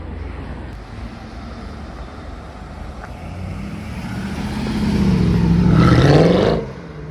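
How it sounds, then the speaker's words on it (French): Older Mercedes C63 AMG with its naturally aspirated 6.2-litre V8 passes on a street in Deauville, a low burble swelling louder and rising in pitch to a brief rev near the end before fading away. "C63 MG, donc l'ancienne avec le V8 Atmo là, 6 litres 2. Qu'est-ce que ça sonne bien ça."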